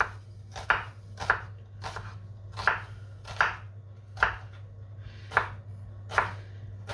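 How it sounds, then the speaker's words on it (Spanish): A knife chops spring onion into small dice on a board, about ten crisp, evenly spaced strokes heard close over a low steady hum, with no talking. "lo primero que vamos a hacer es cortar a daditos pequeños la cebolleta"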